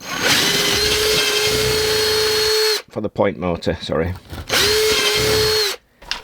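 An electric drill boring an 8mm hole for model railway point wiring, two loud sustained whirring bursts close by with someone talking briefly between them.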